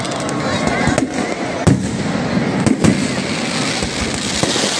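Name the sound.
fireworks at Ravana effigy burning, Dussehra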